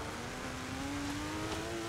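A torque-heavy car accelerates while driving, its engine note climbing steadily in pitch over a constant rumble of road noise. The engine runs alone, with no talking.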